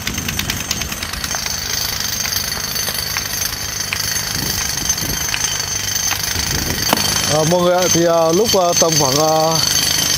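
A jackhammer drills and breaks rock at a construction site for a hanging water tank in the Cán Lủng valley, pounding loudly and continuously. Someone speaks over the hammering, and a brief wavering tonal sound rises near the end.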